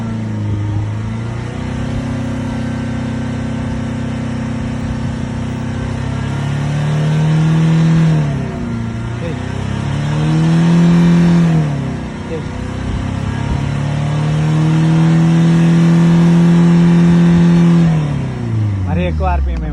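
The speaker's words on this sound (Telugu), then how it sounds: "నువ్వు కూడా ఇందాకట్లాగే ఎక్సలేటర్ ఇవ్వండి" A Toyota Etios with about 1.8 lakh km driven and a smoke problem, its engine revved repeatedly while parked, with loud rising and falling surges held several seconds each, and people talking nearby.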